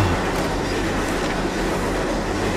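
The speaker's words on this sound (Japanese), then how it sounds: "うお電車だ。" A train passes in a near-future video game, a dense continuous rumble with clattering wheel texture, loud and close and steady for the whole stretch with no talk.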